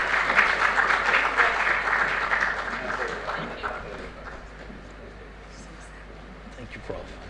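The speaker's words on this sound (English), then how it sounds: "I think they deserve another round of applause" An audience at an international symposium on countering organized crime in Africa applauds the panelists. The clapping is dense and sustained, then gradually fades, with voices murmuring underneath.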